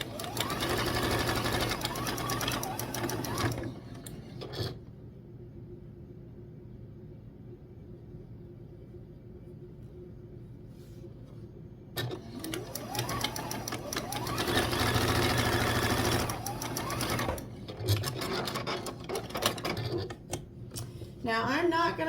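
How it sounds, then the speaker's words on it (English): A sewing machine stitches quilt binding strips together in fast whirring bursts, loud and close, pausing for several seconds midway before running again, with low rumble and a faint voice in the background. "I'm just going to sew my binding strips together"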